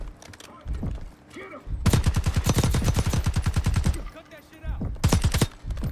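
Gunfire in Call of Duty Black Ops 6, loud rapid automatic bursts with a longer sustained stream of shots and shorter volleys between quieter gaps, with a voice speaking underneath.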